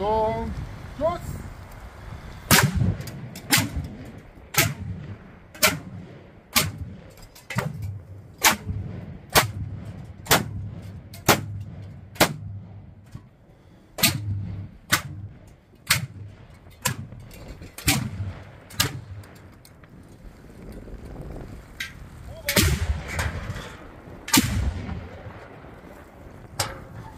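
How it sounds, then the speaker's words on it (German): Ceremonial Easter salute shots fired in Bleiburg, a long series of sharp, loud booming reports at roughly one-second intervals, with a pause and then a few more blasts near the end. "Achtung! Schuss!"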